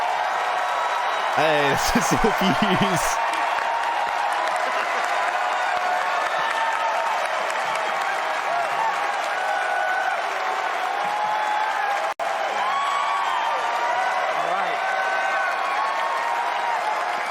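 Crowd at a Star Wars Celebration event cheering and applauding, a broad distant roar of the audience running throughout while someone talks over it briefly near the start.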